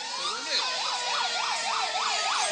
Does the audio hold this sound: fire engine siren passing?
yes